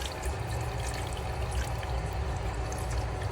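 Water gushes steadily out of a residential water heater as it is flushed of sediment, a loud, close, continuous splashing pour with no pauses or voices.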